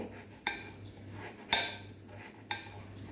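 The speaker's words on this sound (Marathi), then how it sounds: "खोबऱ्याचे काप करूया आपण आता एकदम पातळ असे स्लाइस करून घ्यायचे आहेत" A knife cuts dried coconut into thin slices on a board, three sharp, evenly spaced chops about a second apart, close and clear over a low background hum.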